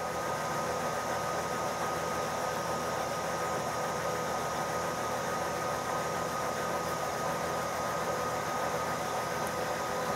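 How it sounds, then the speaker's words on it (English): A lathe machining a wheel hub runs with a steady, faint mechanical hum and hiss that stays even from start to finish, with no talk. "I'll speed up the lathe to finish the pass."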